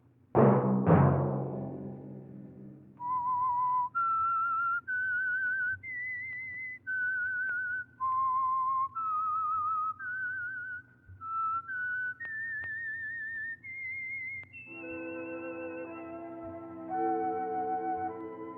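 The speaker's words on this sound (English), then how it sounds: "Let that whistle be your signal" A lone whistler carries a slow, eerie melody of sustained notes, clear and close, ending as orchestral music swells in; the theme of the old-time radio mystery program The Whistler.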